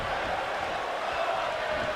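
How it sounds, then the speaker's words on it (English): Arena crowd in the wrestling video game WWE 2K19 chants for Sami Zayn, a dense, steady roar of many voices at even loudness throughout with no pauses. "Crowd chanting early on for Sami Zayn."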